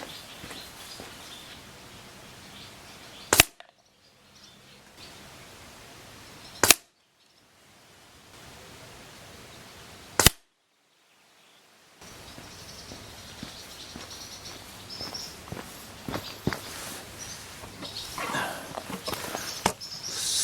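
Three sharp cracks from a Weihrauch HW100T air rifle fired at a target, evenly spaced about three seconds apart, each followed by a brief near-silent gap, with faint outdoor background between.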